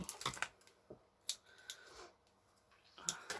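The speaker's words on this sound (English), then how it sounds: "Sticky scissors." Sticky scissors make several crisp, separate snips in a quiet craft session while a junk journal spine is being prepared, each cut brief and near.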